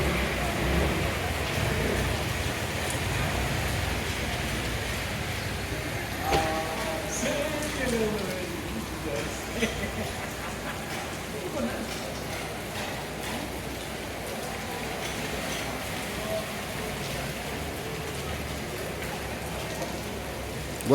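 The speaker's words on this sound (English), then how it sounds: "It's lashing it down." Heavy rain pouring down in Benidorm, a dense, steady hiss of downpour spattering on surfaces throughout, fairly even in level with no distinct voices over it.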